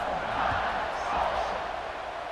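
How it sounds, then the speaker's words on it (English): Dense, steady roar of a stadium crowd in EA Sports College Football 26, a broad continuous murmur buzzing after a score with no breaks, loud and filling the whole moment. "this crowd is buzzing after that last score"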